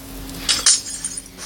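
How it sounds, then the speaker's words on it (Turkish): Glass shattering in a video game, two quick bright crashes close together over a steady low background hum, with faint tinkling fragments trailing after. "cam kırma sesi geldi"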